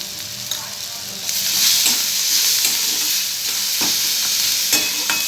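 Onion being stirred together with ginger-garlic paste and green chilli paste in a hot pan, a loud close sizzle that swells partway through, punctuated by repeated sharp spatula scrapes and taps; no speech.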